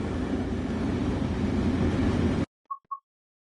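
A Metrolink MP36PH-3C locomotive in Train Sim World on the San Bernardino Line from Los Angeles to San Bernardino gives a loud, steady engine and rail rumble that cuts off abruptly, followed by two short tones in near silence.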